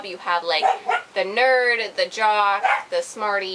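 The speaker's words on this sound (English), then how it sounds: "I'm sorry for the dog. Sorry for the dog." A dog barking and whimpering close by in a home, repeated yappy barks layered over a person talking throughout.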